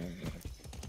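A horse galloping in the video game Far Cry 6, a brief burst of quick, close hoofbeats thudding at a fairly low level, with no talk.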